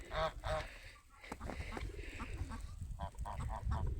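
Geese on a farm in winter honk in short repeated bursts, fairly close, with scattered quieter farmyard noise between the calls.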